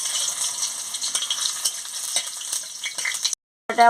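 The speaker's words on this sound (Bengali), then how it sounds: "তেলটা গরম হয়ে গেছে আমি শুকনো লঙ্কাটা দিয়ে দিচ্ছি" Dried red chillies dropped into hot oil sizzle with a bright, crackling hiss and a few stirring clicks, close and steady, cutting off abruptly near the end.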